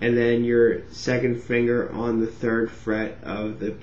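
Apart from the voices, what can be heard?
No everyday noises stand out.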